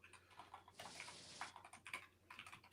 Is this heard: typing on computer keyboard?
yes